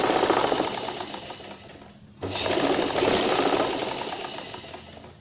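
Sewing machine running a straight stitch along a salwar seam, a steady close whir that stops briefly and then resumes, with no talking.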